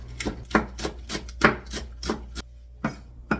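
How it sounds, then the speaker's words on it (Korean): A knife finely chops a green onion on a cutting board in a series of about ten crisp, close taps at an uneven, brisk rhythm, with a short pause before the last few cuts. "대파 한 뿌리 쫑쫑 썰어서 들어갑니다"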